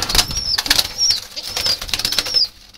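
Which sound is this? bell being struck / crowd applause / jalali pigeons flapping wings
jalali pigeons flapping wings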